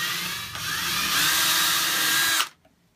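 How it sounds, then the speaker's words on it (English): A power drill with a 1/16 inch bit bores through a piece of wood at close range for about two and a half seconds, its pitch rising slightly, then cuts off abruptly. "use the 1/16 inch drill bit to drill down all the way through this piece of wood"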